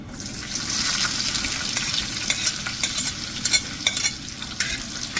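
Onion and green chillies fry in oil that is not yet fully hot, with a steady close sizzle and crackle and a few sharper spatters and stirring scrapes toward the end, no voices.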